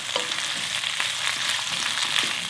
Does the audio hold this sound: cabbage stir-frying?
yes